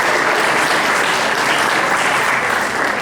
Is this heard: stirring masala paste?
no